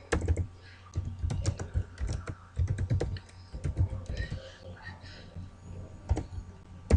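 Rapid, uneven keystrokes on a computer keyboard fill the clip, close and clear, with short pauses between bursts of typing.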